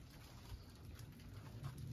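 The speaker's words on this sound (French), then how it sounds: "Et de la pluie en plus, c'est incroyable, c'est une pluie." Rain patters faintly and steadily on the grounds of an abandoned manor, a soft continuous hiss with scattered drops and no voices.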